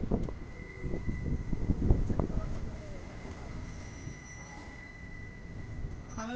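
A train rolls along during a passenger rail journey, giving a steady rumbling clatter with a brief rise in rattling near the start, then an even drone with wind noise throughout.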